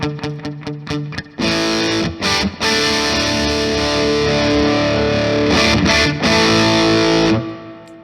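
Electric guitar through a Carl Martin DC Drive overdrive pedal set louder, with a few choppy muted stabs giving way to sustained, loud, gritty driven chords ringing out with brief breaks.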